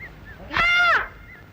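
A person's voice makes a single drawn-out, tuneful call, imitating a cuckoo, over quiet background hiss.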